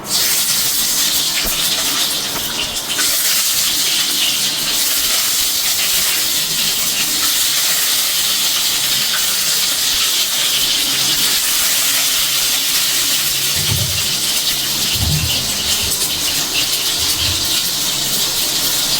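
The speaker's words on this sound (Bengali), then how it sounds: "তো চলো এখন তেলের মধ্যে আস্তে আস্তে করে ডিমগুলো দিয়ে দিই।" Pierced eggs go into hot oil for an egg curry, raising a loud, steady, close hiss of frying that fills the whole stretch without letup, with a few soft low knocks near the end.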